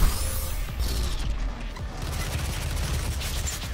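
Chaotic rapid gunfire and crashing impacts in the shooter game DOOM, a dense loud barrage of overlapping shots and booms with no clear pauses and no voices.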